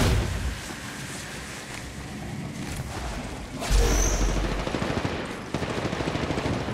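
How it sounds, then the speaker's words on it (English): Automatic gunfire in the mobile battle royale game Apex Legends Mobile, sustained rattling bursts that swell louder midway, dense and close against a constant game background. "They're shooting at me."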